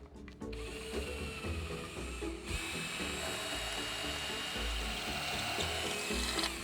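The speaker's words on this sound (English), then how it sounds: "So this is actually the masonry bit that'll go into the wall." A hammer drill fitted with a masonry bit bores into the exterior wall of a 1980s house, a steady, loud grinding whine with a rattling edge that starts abruptly and runs continuously.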